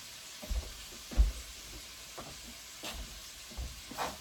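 Garlic toasting in a pan sizzles softly under a low hiss, with a few dull thumps and scrapes of stirring scattered throughout.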